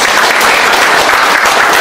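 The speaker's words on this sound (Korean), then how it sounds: "박수 한번 드립니다" An audience claps at the founding ceremony of a Korean citizens' movement for democracy, producing loud, dense, steady applause throughout with no talking over it.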